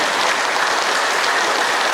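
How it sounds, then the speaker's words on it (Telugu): A meditation group at a Guru Purnima gathering in a pyramid hall claps hard and fast, a dense, even roar of many hands with no pauses for the full stretch. "చిరునవ్వుతోని మీ అరచేతులు చూసుకొని గట్టిగా చప్పట్లు కొట్టండి"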